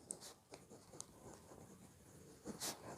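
A pen scratches across paper in short, faint strokes with small taps between them, quiet and close, during a math lesson.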